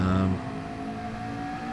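A Porsche race car in a sim racing video game: a steady mid-pitched engine drone at constant revs, with a brief louder, rougher burst at the start, no talking.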